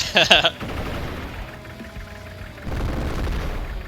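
Gunfire in the Nintendo DS strategy game Advance Wars: Days of Ruin, a sharp crackling burst at the start followed by a low rumbling boom later, with quieter battle noise between.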